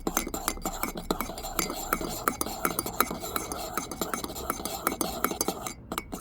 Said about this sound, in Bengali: এটাকে এখন আমি ফোম করব নিজের হাতে, যেটা মেশিনে করে।